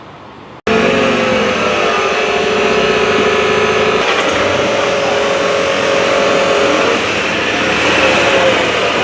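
A Nissan Navara pickup's diesel engine runs steadily at a fairly loud, constant idle during a test after a black-smoke and sluggish-power fault was repaired.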